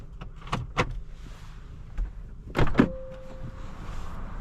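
A sunroof on a 2026 Acura Integra slides open with a short motorized whir after a few clicks and thumps in the cabin, a steady electric hum lasting about a second, close and moderately quiet.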